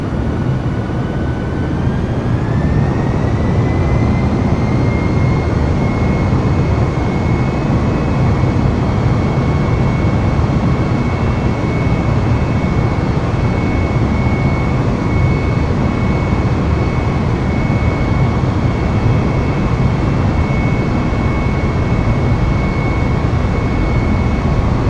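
Airbus A320 jet engines spooling up for takeoff, a loud continuous roar with a whine that rises and then holds steady, filling the cabin without a break and with no talk over it.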